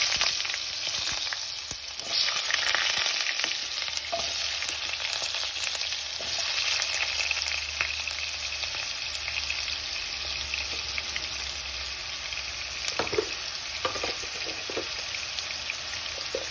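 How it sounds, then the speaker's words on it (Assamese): Potato pieces half-frying in oil in a pan, a continuous dense sizzle with crackling pops, steady and close, no voices. "এতিয়া এইখিনি তেলতে মই আলু কেইটুকুৰাও হাফ ফ্ৰাই কৰি ল'ম।"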